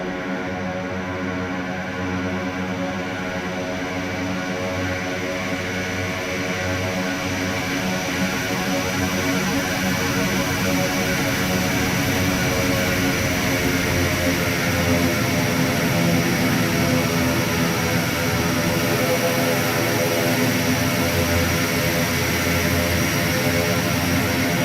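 King Air C90B twin turboprop in X-Plane flight simulation, a steady loud propeller and turbine drone with dense harmonic hum holding constant throughout, no speech.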